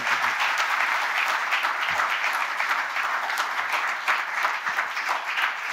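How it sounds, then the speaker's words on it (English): Sustained audience applause at a business conference event, steady dense clapping from a large crowd with no break in the sound. "Can we have a louder round of applause for Swamiji?"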